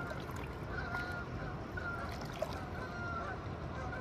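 A wild duck out on the river at the Niagara whirlpool, heard as one faint, short call over steady outdoor background noise with rushing water, no nearby voices.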